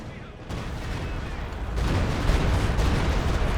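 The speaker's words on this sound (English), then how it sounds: "Stuka firing. We'll see if they actually hit." A Stuka rocket artillery barrage in a real-time strategy game, a distant rumbling rush of launches and impacts that swells louder partway through and rolls on steadily.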